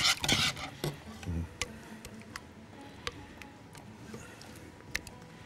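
A kishk mixture whisked quickly in a pot, with rapid irregular ticks and scrapes of the utensil against the pot, louder clatter at first and then lighter, steady tapping.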